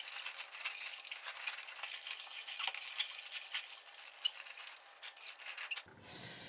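Latex clothes being stirred by hand in a basin of water with Vivishine, soft sloshing and swishing with small splashes and rattles, close and fairly quiet, ending in a brief handling noise.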